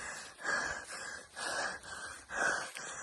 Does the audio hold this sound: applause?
no